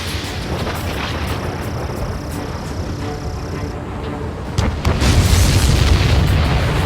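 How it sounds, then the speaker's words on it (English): A supply ship explodes in the combat flight video game Ace Combat 7, giving a loud, close rumbling boom with a heavy low roar that swells and continues under steady engine-like noise. "Did you see that explosion?"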